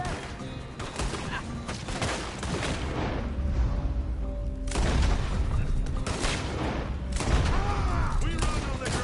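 Gunfire in the video game Red Dead Redemption 2 comes in several loud bursts of rapid shots and booms, separated by short quieter gaps with faint game ambience.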